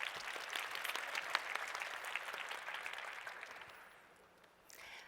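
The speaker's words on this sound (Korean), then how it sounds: "박수 부탁드립니다." An audience at a forum lecture event applauds, a steady crowd of clapping heard from a distance at low level, thinning out near the end.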